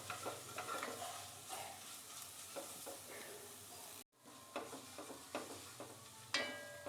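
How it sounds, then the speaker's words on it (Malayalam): Ginger pieces frying in hot coconut oil in a pan, a steady close sizzle broken by scraping stir strokes, with a brief dropout midway before the crackling frying resumes. "വെളിച്ചെണ്ണയാണ് ഞാനിപ്പോൾ ഇഞ്ചി വറക്കാനായിട്ട് ചേർത്തിരിക്കുന്നത്."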